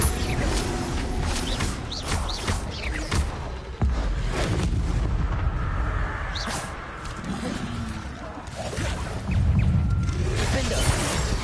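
Confringo blasting spells explode during a Hogwarts Legacy fight, with repeated booms and crackling blasts over a constant noisy battle din, while voices call out now and then.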